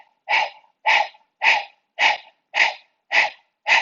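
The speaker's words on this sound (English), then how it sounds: "We're going to do breath of fire." Rhythmic breath-of-fire breathing exercise done as slow open-mouthed panting with the tongue out, like a dog: seven evenly spaced, loud, close breaths at a steady pace, heard alone.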